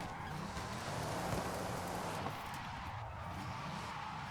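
A Bugatti Divo drifting in Forza Horizon 5, giving a steady, continuous roar of engine and tire noise at constant loudness with no pauses.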